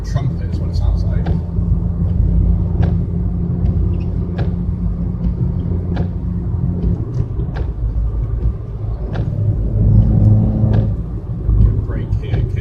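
A Ford Fiesta 1.25 drives along with a loud, steady engine and exhaust drone and a low rumbling hum. A person talks over it throughout.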